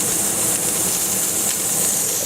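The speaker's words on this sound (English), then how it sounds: "you'll hear the jiggler really start making a noise, which it's supposed to do" The jiggler on a pressure canner hisses out steam while green beans are being canned, a steady, loud, airy hiss that goes on without a break and sits close to the microphone, with no one talking.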